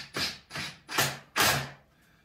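Four separate thunks as 1 5/8 inch screws are driven into a pre-drilled wooden jig for a cutting board juice groove, each a short, close, woody strike heard alone.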